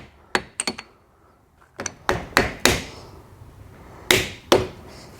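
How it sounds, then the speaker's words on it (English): Plastic hammer tapping a seal into a KTM 300XC rear shock during a rebuild, a series of sharp, close knocks in irregular clusters with short decays and quiet pauses between. "Take our plastic hammer."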